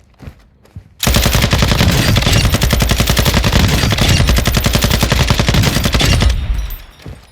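A Sakin MG38 machine gun in Call of Duty DMZ fires one long sustained burst at a firing range, loud, close and rapid, after a few quiet seconds, then cuts off into a short tail.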